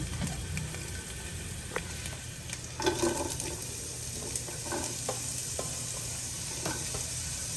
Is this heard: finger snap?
no